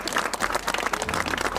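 Applause at the inauguration of a nativity scene in San Filippo sul Cesano, a dense, continuous patter of many hands clapping at moderate loudness with no talk over it.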